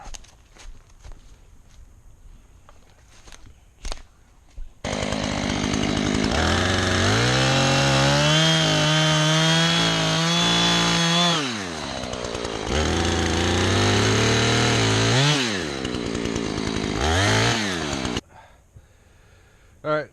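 A chainsaw roars up close, cutting wood to widen ATV trails, with loud sustained revving that dips and rises between cuts, framed by quieter footsteps and rustling before and after the long run of sawing.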